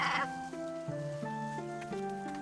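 A cartoon-style sheep bleats in a steady, wavering tone with stepped pitch changes, clear and alone over a soft music-like background in a children's Bible story about a shepherd and his flock.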